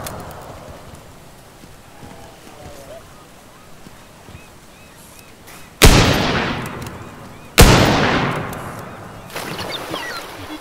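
In the video game Teardown, two loud, sharp gunshots crack several seconds apart, each trailing off in a long decay, over a low, quiet background.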